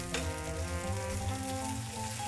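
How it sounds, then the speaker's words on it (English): Oodles and noodles frying in a pan on a kitchen stove, a dense continuous sizzle with a low crackling hiss, close and steady with no talk. "I ain't cooking them, I'm frying them"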